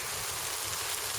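A steady, dense wash of heavy rain mixed with hail and sleet on a windy riverbank while pole fishing, a constant hiss with no breaks and no voices.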